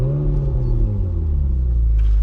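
A Ferrari 458 engine fires up close by, a sustained deep rumble with a slight rev swell that settles into a steady idle, loud and continuous with no talking.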